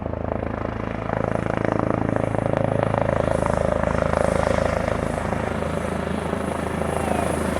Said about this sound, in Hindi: शनिवार दोपहर अस्थायी हेलीपैड में हेलीकॉप्टर उतारकर पर्यवेक्षण किया गया।